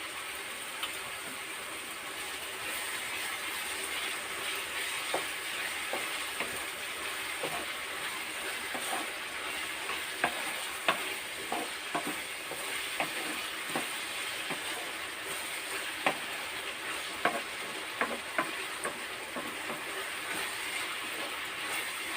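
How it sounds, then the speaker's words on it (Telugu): Chicken gravy cooking on high heat in a pot, a steady low bubbling hiss with faint, regular ticks and pops running throughout, no voices. "హైలోనే పెట్టి ఉడికిస్తున్నాను."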